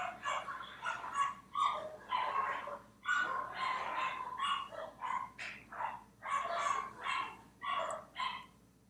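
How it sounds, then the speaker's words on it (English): Several dogs fight indoors with a fast series of sharp barks, yelps and snarling whimpers. The outbursts come in bursts, close by and fairly loud, with no talking. "My dogs are fighting."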